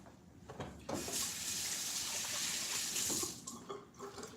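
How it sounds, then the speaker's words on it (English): Hands are washed under a running kitchen tap, water streaming steadily and close, splashing louder in the middle as the hands move through the flow. "first you're gonna wash your hands"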